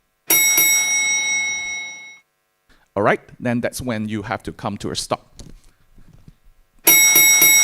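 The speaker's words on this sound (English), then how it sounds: "there will be 2 bells" A bell rung to signal presentation time at an architecture awards finale, two bright ringing strikes, one at the start and one at the end, with someone speaking between them.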